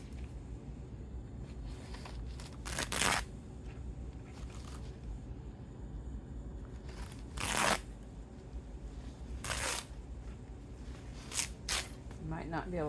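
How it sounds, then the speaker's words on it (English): Fabric tears by hand in several sharp ripping bursts, spaced a few seconds apart, with a quieter rustle in between. "you can probably hear that it is tearing"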